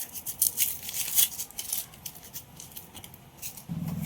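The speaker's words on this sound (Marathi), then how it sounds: "एक साईड कांदा पण कापून घेतो मी बारीक बारीक" A knife chops an onion finely with quick, crisp, irregular cuts close by. They come in bursts for about three seconds, then a duller thud closes the stretch.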